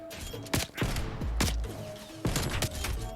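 Gunfire in the video game Call of Duty Cold War: several sharp, loud shots in uneven bursts over a busy game background, close and punchy.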